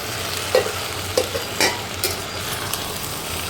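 Green peas fry in a pan for alu matar, a constant close sizzle punctuated by a few sharp spoon scrapes and stirs, with no one talking.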